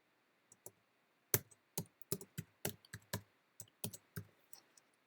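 Irregular clicks from typing on a computer keyboard, close and fairly quiet, about a dozen keystrokes in quick uneven bursts with short pauses and no talking.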